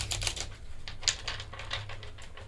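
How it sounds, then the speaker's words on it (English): Cards are shuffled at close range in a quick run of soft, rapid riffling clicks and flutters, fairly faint and with no talk over them. "just shuffling for you, Kara."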